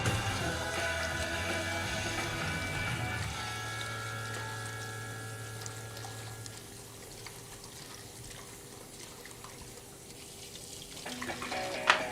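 Steady running water from a kitchen tap while a board is washed in a sink, a continuous close hiss with a low hum that drops away partway through, no talking.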